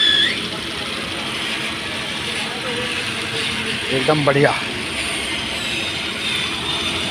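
A Datsun Redigo car engine idles after an overhaul with a steady, even mechanical hum, and someone briefly speaks over it midway.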